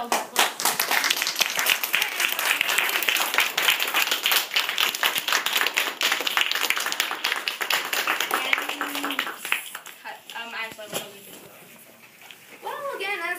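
A debate audience breaks into dense, continuous clapping that fills most of the stretch, then thins out near the end as a few voices speak.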